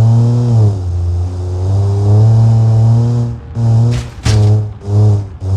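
A 25 horsepower three-cylinder sports car engine in BeamNG drones loudly and close, holding a steady low hum, then revs in short bursts with brief gaps between throttle blips.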